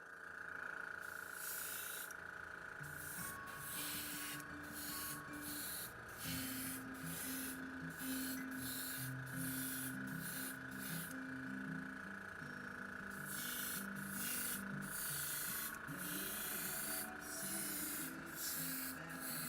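A Harder & Steenbeck Ultra airbrush with a 0.45 mm needle and nozzle sprays paint in a steady, close hiss broken into repeated short bursts, with no talk.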